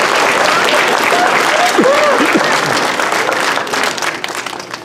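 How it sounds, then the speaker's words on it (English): An audience at a school Christmas program applauds its teachers with dense, sustained clapping that fades near the end, while a voice speaks over it partway through. "if we can give our teachers a round of applause"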